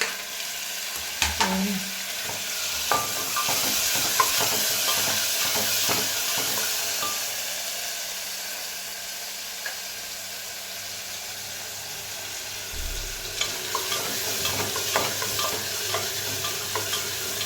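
Tomato fries in oil in a pan for a vegetable kurma, a steady close sizzle broken by repeated scraping and clinking stirs of a spoon against the pan.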